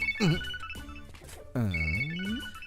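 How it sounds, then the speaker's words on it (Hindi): A mobile phone ringtone plays a bright, melodic electronic tune of sliding tones in two short phrases, fairly close and clear with no talking over it, in a Hindi-dubbed South Indian film scene. "कहीं तो सुना हुआ है ये रिंगटोन मैंने।"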